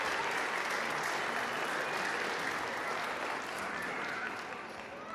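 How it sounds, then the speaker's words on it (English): Audience applause at the 2023 Festival of Native Arts, a dense, loud wash of clapping that holds steady and then tapers off slightly near the end. "One round of applause for Carlton Howler."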